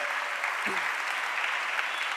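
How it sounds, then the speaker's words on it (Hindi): Audience applause at a religious gathering with a Jain monk in Bagidora, Rajasthan, a steady wash of clapping from a crowd with a brief low voice or thud partway through. "आपकी तालियां ही बजा रही हैं कि सबको प्रसन्नता होगी"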